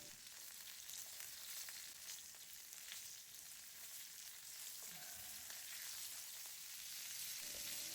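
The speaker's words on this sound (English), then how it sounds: "I prefer to do the searing outside because it avoids making a greasy mess on the kitchen stove." Meat sears over an open fire outdoors, a continuous soft sizzle and hiss with occasional faint crackles, low in level and steady throughout.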